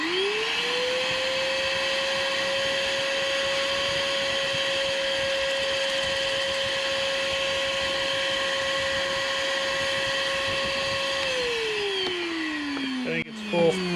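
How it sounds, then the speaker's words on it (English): A vacuum cleaner runs steadily while cleaning a car's interior, with the motor spinning up at the start and holding a loud, even whine for about eleven seconds before winding down at the end. "Clear out the vacuum."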